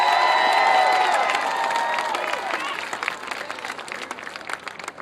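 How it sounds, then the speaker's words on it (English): A large crowd at a Barack Obama campaign speech in Dayton, Ohio applauds loudly with scattered cheers, the clapping fading gradually over several seconds. "Give her a big round of applause."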